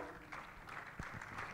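Crowd applause, soft and distant, a steady patter of many hands clapping for over a second with no voices.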